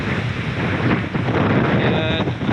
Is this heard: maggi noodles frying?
no